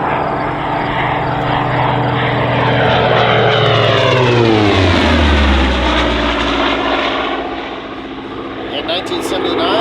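A Hawker Sea Fury propeller fighter roars past at a London airshow, a loud, rough engine drone that swells as it nears and then drops sharply in pitch as it moves away.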